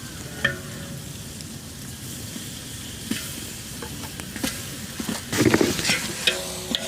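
Ground masala for chicken biryani fries deep in a pan, a continuous close sizzle broken by scraping and clinking of a spoon stirring, busier toward the end.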